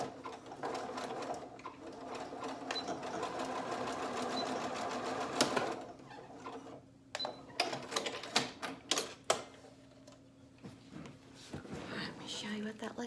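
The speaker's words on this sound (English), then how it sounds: "I'm going to use the machine, use a zigzag stitch" A sewing machine runs a zigzag stitch on a dog snood in a long, steady whir that gives way to intermittent clicks and knocks, with soft talking underneath.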